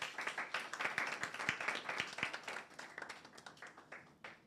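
Applause from a debate audience after a zonal school debate match, steady scattered clapping that builds briefly and then thins out toward the end.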